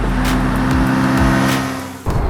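A TVS Apache RTR 310 motorcycle engine drones steadily while riding, a loud continuous hum with a slight swell before dropping off near the end.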